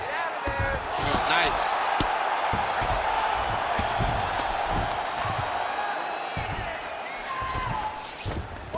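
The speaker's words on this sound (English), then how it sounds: "big pop from the crowd as they get back to their feet after a pretty scintillating grappling battle there on the ground" An arena crowd in the UFC 5 video game gives a big pop after a grappling exchange, a steady, dense roar of cheering that holds across the whole stretch with a few sharper peaks.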